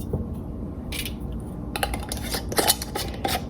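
Lids go onto filled jars of salted caramel with light metallic clinks and scrapes. Scattered taps and rattles of varying loudness are heard close up over a low background rumble, with no speech.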